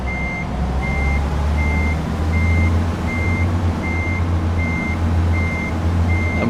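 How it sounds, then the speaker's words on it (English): A truck in American Truck Simulator sounds its reversing alarm, a loud, regular electronic beep pulsing about twice a second over a deep, steady engine drone. "Sorry about the beeping again"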